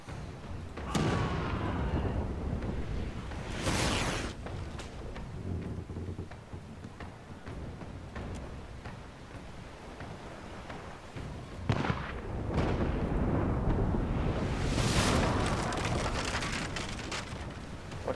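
Ship cannons fire during a naval battle in the video game Pillars of Eternity II: Deadfire. Several heavy booms come in separate bursts over a crackling, rain-like background, with no voices.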